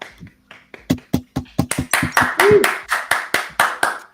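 Clapping after congratulations, first a few sharp separate hand claps, then a quicker run of louder claps from a handful of people close by, with a brief voice sound in the middle.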